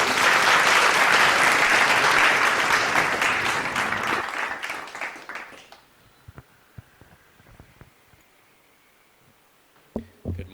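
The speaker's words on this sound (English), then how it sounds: "Please give him a big round of applause." Loud, dense audience applause welcoming a speaker at a fellowship gathering, a full roar of clapping that fades out over several seconds and gives way to a quiet room with scattered knocks and small movements.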